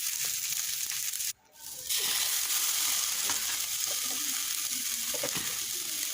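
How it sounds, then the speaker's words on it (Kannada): Mashed boiled potatoes sizzle and fry in a pan while being stirred, a steady close crackle with light scraping strokes and a brief drop to near quiet early on. "ಆಲೂಗಡ್ಡೆ ಬೇಯಿಸ್ಬಿಟ್ಟು ಸ್ಮ್ಯಾಶ್ ಮಾಡ್ಕೊಂಡಿರ್ತೀವಲ್ಲ ಅದನ್ನ ಹಾಕಿ ಸ್ವಲ್ಪ ಅದರಲ್ಲೇ ಮಿಕ್ಸ್ ಮಾಡಬೇಕು"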